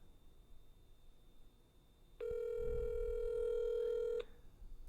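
A telephone rings while a call is placed to a relative who does not pick up. A single steady electronic ringback tone sounds clearly for about two seconds over quiet background hiss.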